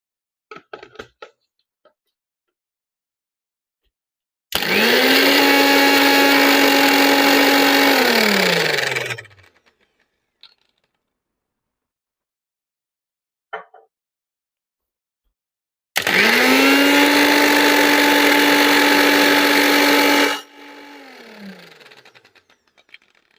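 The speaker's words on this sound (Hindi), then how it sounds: "I'm going to grind it in front of you." An electric grinder pulverises a 12-gram mango drink sample in two loud bursts of about five seconds each, whining up to speed then winding down, separated by silence and a few faint clicks.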